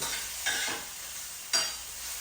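Paneer cubes frying in a home kitchen pan, a steady broadband sizzle with two brief louder bursts as pieces are stirred or turned, heard alone.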